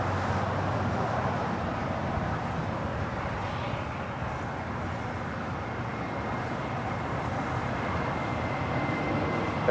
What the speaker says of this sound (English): Next departure is JetBlue Airways in the JetBlue Vacations livery, flight 11 to 80. It's the A320 heading to Las Vegas